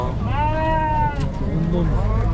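Sheep bleating at a livestock market in Kara-Balta, one loud, close, wavering bleat with a fainter second one after it, amid crowd murmur.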